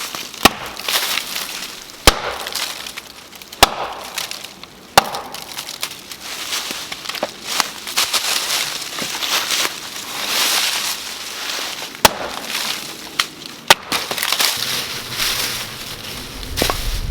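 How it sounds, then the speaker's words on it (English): Sticks are gathered and snapped for a campfire at a wild camping spot, with sharp woody cracks recurring every couple of seconds over continuous rustling and crunching of brush nearby. "I'm just going to get a bunch of sticks together"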